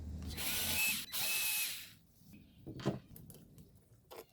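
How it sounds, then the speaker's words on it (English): A power tool or ratchet loosens carburetor mounting bolts on an Echo Little Wonder 9444E power blower, with two loud close bursts of broadband whirring in the first two seconds, then quieter scattered clicks and handling noises. "We need to take these two mounting bolts."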